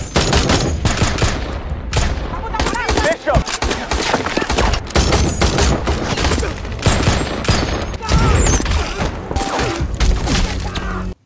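Rapid bursts of gunfire crackle back and forth, dense volleys and single shots overlapping for several seconds, loud and close.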